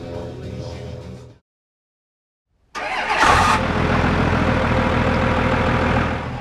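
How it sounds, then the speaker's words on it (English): A diesel truck engine cuts out briefly, then starts up with a burst and settles into a loud, steady rumbling idle close by. "That is the beautiful sound of one of the best diesel engines ever built"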